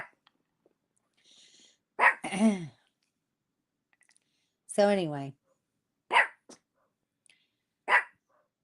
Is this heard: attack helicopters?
no